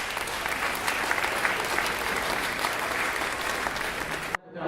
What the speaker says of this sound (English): I want to thank the parents and give them a round of applause for what they do.